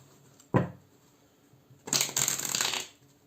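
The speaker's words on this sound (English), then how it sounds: "Let's do one last shuffle," Tarot cards being shuffled at close range: one sharp riffle snap, a pause, then a longer crisp flutter of cards lasting about a second.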